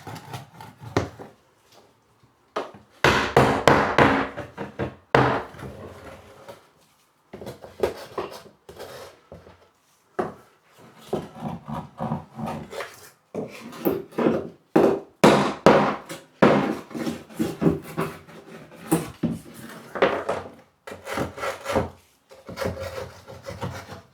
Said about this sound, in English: I'm going to go around with the hammer now and sort all the loose, see, nails